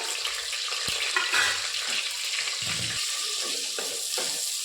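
Star anise and whole spices fry in hot oil for a methi pulao, giving a continuous crackling sizzle with a few soft stirring clunks of a spoon in the pan.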